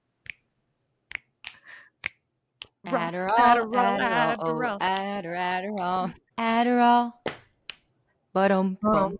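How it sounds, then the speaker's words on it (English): Sharp finger snaps crack out several times, a few alone at the start and more scattered through a voice singing upbeat lines close to the mic. "I feel like finger snaps need to be in that one."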